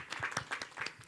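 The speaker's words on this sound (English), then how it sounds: "Let's clap for him." Audience applause at a graduate talk on moving into the workplace, a short burst of clapping with distinct individual claps, moderately close, with faint voices mixed in.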